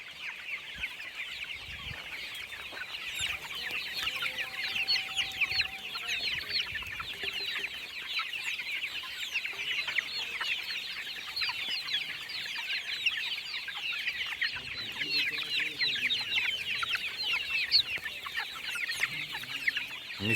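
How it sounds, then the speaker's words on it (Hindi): Misri and desi breed chicks on a poultry farm in Pakistan peep and chirp continuously in a dense, steady chorus, close and busy throughout, with soft clucking underneath and no talk. "मिस्री और देसी नस्ल के चूजे हैं।"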